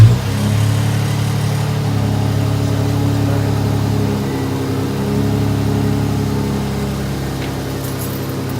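A car with a new aftermarket exhaust runs steadily at close range, a deep droning engine note with slight rises in revs, alone without talk.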